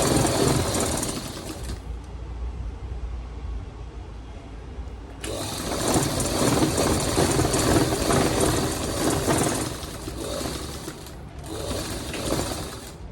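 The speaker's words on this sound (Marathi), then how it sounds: "इथे सरळ शिलाई मारून घ्यायची आहे" A sewing machine runs in fast continuous bursts while stitching a Gandhi cap, its rapid mechanical whir pausing briefly near the start and again later before resuming, with no talk.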